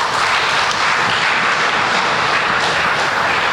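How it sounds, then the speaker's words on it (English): An audience of young people applauds during a sport and youth affairs minister's address, a loud, dense, unbroken wash of clapping that fills the room. "So I want to give all you all a round of applause."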